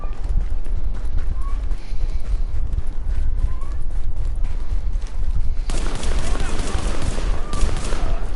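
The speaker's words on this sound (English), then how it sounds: "Stop shooting at me!" Gunfire in the video game The Division, a dense, continuous barrage of shots that grows louder and harsher toward the end, with a person talking over it.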